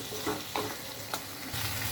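Tilapia fish kalia masala being stir-fried in a pan, with a soft, continuous sizzle and several scraping strokes as the spice paste is turned over.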